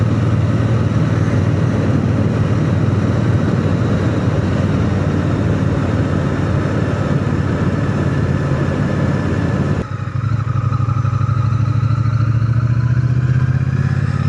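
A Triumph Bonneville motorcycle being ridden, its engine droning steadily and loudly with strong low rumble throughout, then shifting slightly in tone near the end. No one speaks.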